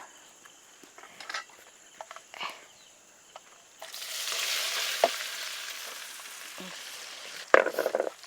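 Spinach mixture tipped into browned, sizzling fried rice in a pan for cheera thoran, a faint crackle turning into a louder, steady broadband sizzle with a few light stirring clicks and a sharp scrape near the end.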